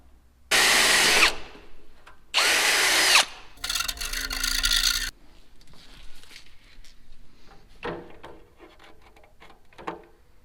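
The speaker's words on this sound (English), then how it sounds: "I wonder if I should drill from the back so it doesn't chip this front." Power drill boring from the back of a plastic switch panel for a Mitsubishi 3000GT, two loud bursts of whirring followed by a grinding cut, then quieter handling clatter.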